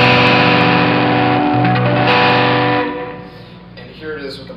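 Electric guitar fed through a signal drive pedal into a Bugera V22 amp gives a thick, overdriven, sustained chord wash, loud and close, that fades after a few seconds into quieter picked notes.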